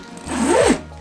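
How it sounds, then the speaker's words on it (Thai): YKK zipper on an airsoft gun bag for a Tokyo Marui MK46 Mod0 AEG being pulled open, one close, smooth rasping zip of about half a second with no talk. "เราจะมาดูกันว่าซิป YKK เนี่ยมันดีขนาดไหน"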